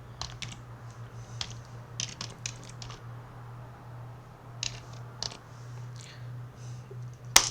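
Typing a command on a computer keyboard while installing the Processing program, scattered clusters of light key clicks close by and faint, over a steady low electrical hum, ending with a sharper final keystroke.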